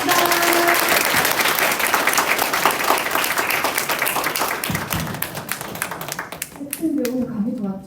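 Applause from a seminar audience as a lecture ends, a dense burst of clapping that thins toward the end while a voice talks over it.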